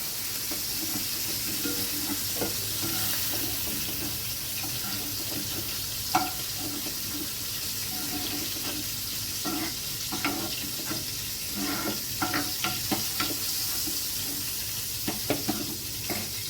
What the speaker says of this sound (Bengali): চিংড়ি মাছগুলো ভাজা হয়ে গেছে এগুলো আমি তুলে নেব